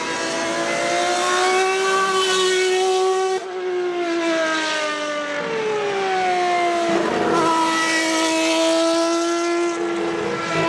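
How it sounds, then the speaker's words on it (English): A Ferrari 4-liter V12 race car engine revs loudly and continuously, its high-pitched wail climbing and falling through several rev sweeps with no talking. "it still had their 4-liter V12"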